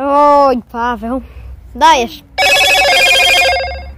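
A telephone rings with a bright trilling electronic ring lasting about a second, loud and close, right after brief talk by a man.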